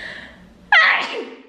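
A single loud, close human sneeze, preceded by a soft inhaled breath, occurring indoors where burning incense is triggering it.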